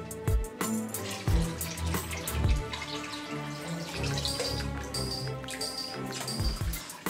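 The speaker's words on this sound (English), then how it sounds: "Put the water into a bucket." Water poured from a water-filter resin canister into a bucket, a continuous splashing, gurgling flow heard close up and moderately loud across the whole stretch.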